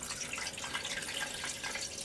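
Water pours steadily into an Oster Versa blender jar to make homemade coconut milk, about 5.5 cups going in, as a continuous close hiss and splash with no talking.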